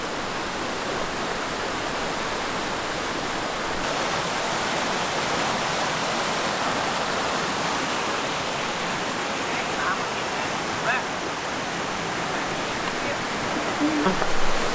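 A mountain stream with rapids and small cascades near Sekumpul Waterfall in Bali rushes in a steady, loud broadband roar, with faint voices briefly surfacing over the water toward the end.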